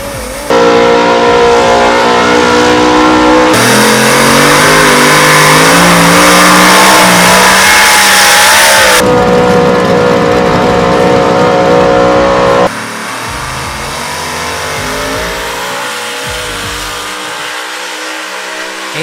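Outlaw street gas four-wheel drive trucks and super modified trucks at a two-day truck and tractor pull, engines roaring loud and close in long sustained revving pulls that climb and fall, with crowd-level din.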